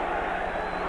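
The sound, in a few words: boxing crowd at Nassau Coliseum chanting Cooney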